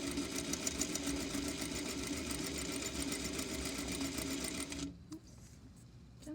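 A sewing machine stitching a straight row on fabric, a steady close buzzing hum of rapid stitches that runs for about five seconds and then stops.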